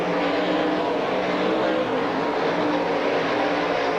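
Race cars at Silver Spring Speedway roar loudly down the front straightaway, a steady, continuous engine drone with no voices over it.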